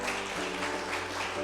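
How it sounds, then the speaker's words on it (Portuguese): A church congregation applauds during a worship service, a steady, even wash of clapping that holds at moderate loudness for the whole stretch over a low background hum. "dê uma forte salva de palmas a Jesus"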